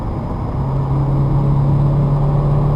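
A car in third gear with a manual transmission pulls forward under gentle acceleration. A loud, steady engine drone holds a constant hum throughout, heard from inside the cabin with no talking.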